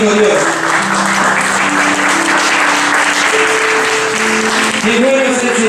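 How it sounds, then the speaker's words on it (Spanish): A church congregation claps in loud, sustained applause, with voices and sung or shouted tones running through it for the whole stretch. "Den un fuerte aplauso a nuestro Dios"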